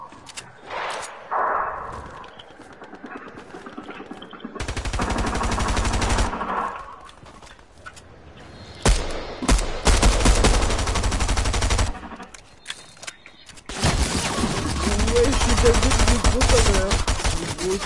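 Loud bursts of automatic gunfire in a PS4 video game, several long volleys separated by short pauses and quieter stretches.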